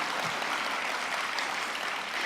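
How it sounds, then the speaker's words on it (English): Continuous audience applause fills a large hall at a formal closing ceremony, moderately loud and steady throughout, with no speech over it. "okay, clap."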